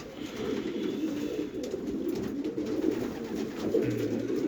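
Pigeons cooing in a cold, rainy forest, soft low repeated coos continuing throughout under a steady background hiss.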